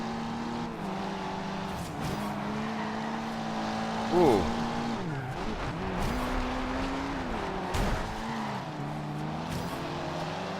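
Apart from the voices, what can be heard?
civilian cars cornering in an open-world racing video game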